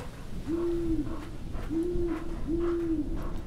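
An owl hoots three times in the video game Shelter 2, each a smooth low call, over a steady murmuring background.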